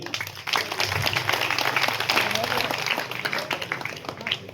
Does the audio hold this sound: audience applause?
yes